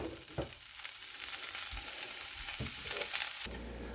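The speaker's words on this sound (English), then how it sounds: "get a pan, get it hot, and go ahead and dump that bacon in" Bacon strips sizzle and crackle steadily in a hot pan, a dense continuous frying hiss broken by a few louder pops and stirring knocks, close and without talk.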